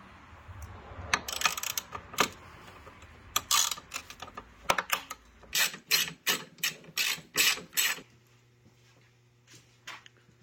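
A ratchet wrench backs out a bolt during a Voswitch JL300 dash switch panel install, giving bursts of crisp clicking pawl strokes in an uneven rhythm, close and loud, with no voices.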